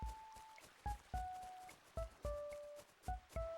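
Soft, evenly spaced footfalls tap along in a quiet space, each step short and light, with gentle chiming tones ringing out between some steps.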